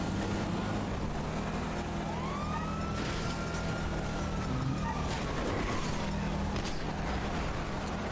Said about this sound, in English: Man, those are some new sirens I hear.